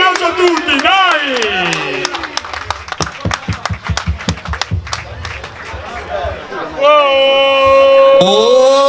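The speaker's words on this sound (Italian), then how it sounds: "Un applauso a tutti, dai!" Applause and cheering at a youth football tournament in Berbenno, with a burst of rapid clapping in the middle, surrounded by loud shouting voices from the crowd.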